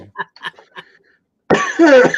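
A man coughs hard twice or thrice in a harsh burst, preceded by a few soft, breathy throat sounds.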